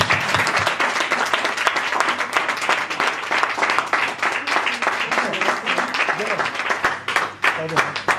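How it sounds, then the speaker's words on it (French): Dense, sustained applause from a large audience at a press conference for a singer, loud and continuous throughout with cheers and voices mixed into the clapping. "un tonnerre d'applaudissements pour elle"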